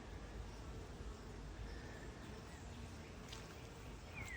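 Faint, steady low hum of bees inside a beehive box, a dense continuous buzz with no breaks and no talking.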